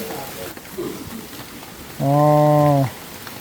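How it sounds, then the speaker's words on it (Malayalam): Heavy rain falls outdoors by a river during a fishing trip, making a steady, even hiss throughout, broken briefly by a loud sustained tonal hum near the end. "നല്ല മഴ പെയ്യുന്നുണ്ടോ നല്ല അടിപൊളി മഴ കേട്ടോ"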